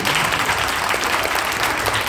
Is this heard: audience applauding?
yes